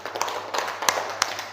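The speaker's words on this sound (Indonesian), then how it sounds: "Tepuk tangan untuk dua-duanya." Classroom applause from students in a lesson, a short burst of scattered, fairly quiet claps with a few sharper hits, no talking over it.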